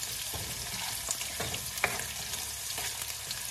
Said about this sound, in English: We're going to saute this for a few minutes so we can get it soft.